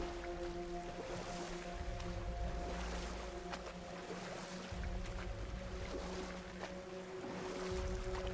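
A small boat glides across open water in a video game, soft, steady swishing of waves and hull movement under a faint wind, quiet and continuous.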